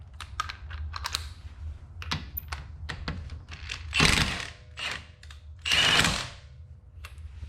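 Milwaukee M18 Fuel high-torque impact wrench breaking a bolt loose, with rapid clicking hits and two loud hammering bursts, close and alone.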